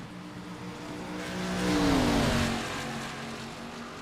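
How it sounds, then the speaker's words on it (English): Stock race car in an online racing video game at Darlington, engine revving in a smooth rise and fall as the throttle is worked, one continuous moderately loud roar that swells in the middle and eases off. "I'm hearing a little bit of pedaling going on that gas pedal"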